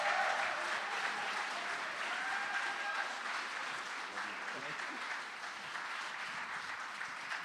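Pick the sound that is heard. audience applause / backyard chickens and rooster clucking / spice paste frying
audience applause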